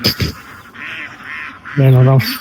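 A flock of ducks quacks, with a loud, nasal honking call close by near the end after quieter calls and a brief voice at the start.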